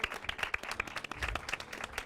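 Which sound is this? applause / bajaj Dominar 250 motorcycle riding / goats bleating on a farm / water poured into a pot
applause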